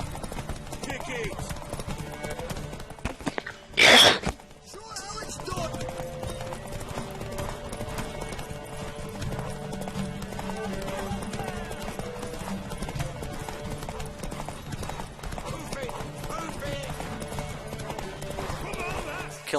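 Horse hooves clip-clopping at a gallop in The Witcher 3, a steady patter under a person's talking, with a brief loud burst partway through.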